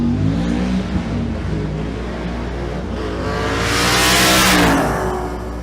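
Two stick-shift drag racing cars with clutch-assisted manual shifts launch at Twin Cities Raceway in Monroe, Louisiana, engines droning and rising in pitch, then a swelling roar as they rush past at full throttle.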